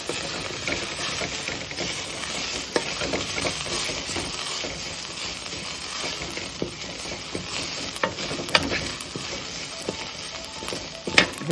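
Grated coconut, green chilli and curry leaves sauté in a pan for a chickpea sundal, a steady close sizzle with frequent scraping stirs and small clinks throughout, no voices.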